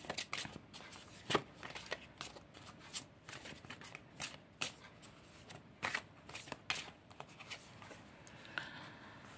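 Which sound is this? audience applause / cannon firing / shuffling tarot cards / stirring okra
shuffling tarot cards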